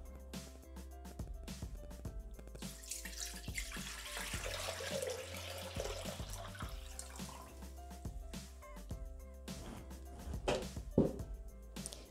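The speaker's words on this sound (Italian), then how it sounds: "Mettere nel boccale l'acqua." Water poured into a Thermomix (Bimby) mixing bowl for polenta, a soft continuous trickle and splash in a quiet kitchen with faint background hum.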